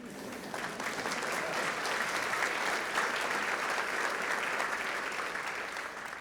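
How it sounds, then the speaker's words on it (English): A university commencement audience applauds, a dense, steady wash of clapping that holds evenly throughout, broad and sustained. "That's where you applaud."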